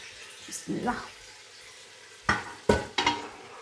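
Pasta being stirred in a frying pan with vegetables, a few soft scraping strokes and sizzling bursts spaced across a quiet background, close by.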